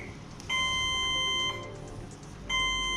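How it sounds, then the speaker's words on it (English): A Protec 6500 fire alarm control panel sounds its fault buzzer, a steady electronic tone that plays for about a second, stops, then starts again, heard alone at moderate volume. "If you press that, you'll then get a fault buzzer"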